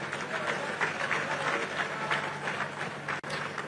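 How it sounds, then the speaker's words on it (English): Crowd applause at the Imo State golden jubilee celebration in Nigeria, a steady wash of clapping for a drummer at moderate level with a murmur of voices mixed in. "deserves a resounding round of applause"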